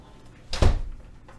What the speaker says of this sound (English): I'm going to go close the door now.